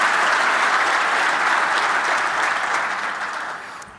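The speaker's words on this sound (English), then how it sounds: "We'll give you another applause here." A conference keynote crowd at JNUC 2018 applauds steadily with dense, sustained clapping that begins to fade toward the end.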